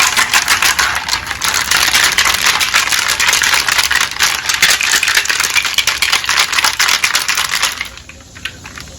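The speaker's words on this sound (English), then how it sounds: "So the rocks are in there knocking those rust flakes off and smoothing everything out." Dense, continuous rattling and clattering of rocks tumbling inside a vintage outboard's metal gas tank, knocking off rust flakes, loud and steady for most of the clip, then abruptly quieting near the end.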